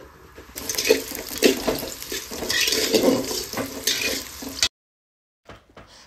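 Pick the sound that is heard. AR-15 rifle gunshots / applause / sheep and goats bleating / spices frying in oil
spices frying in oil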